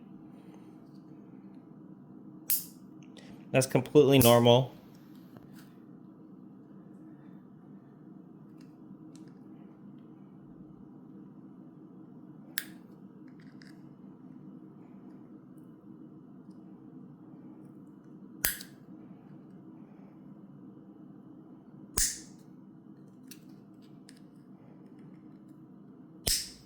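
Plastic frame of a car key remote cracking as it is pried up: a cluster of sharp snaps near the start, then a few isolated cracks spaced several seconds apart over a steady low hum, with a brief spoken remark.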